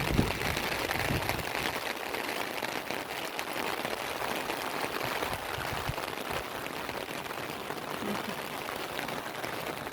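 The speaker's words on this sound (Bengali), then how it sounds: "দেখুন কি অবস্থা সমানে বৃষ্টি হয়ে একটু চলেছে" Steady rain falling outside a house after a storm, an even continuous hiss of drops on surfaces, moderately loud and unchanging throughout with no clear voices.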